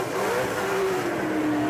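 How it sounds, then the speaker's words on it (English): Formula Drift cars at a Japan event rev their engines at the start line, a loud, dense, continuous roar with a wavering pitch, no voices over it. "Vehicles ready to go."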